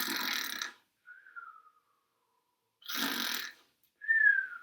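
A person imitates loud snoring, with two rasping inhaled snores, each followed by a short whistling exhale, close and clear against silence.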